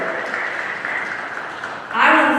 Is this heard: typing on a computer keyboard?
no